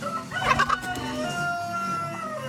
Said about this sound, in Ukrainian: Злякала курочку.